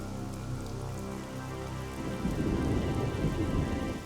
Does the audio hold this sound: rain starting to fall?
yes